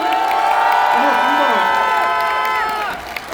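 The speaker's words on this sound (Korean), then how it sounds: "여러분 우리 이재명 후보님께 뜨거운 박수로 화답합시다" A large crowd at a presidential campaign rally in Busan applauds and cheers loudly and steadily, a dense wash of clapping with shouts, tapering slightly toward the end.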